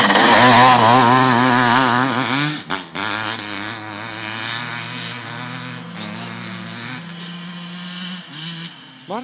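A quad ATV with a 500 CR engine revs hard at first, then drops to a buzzing idle that rises and falls in short blips, loud and close with no voices.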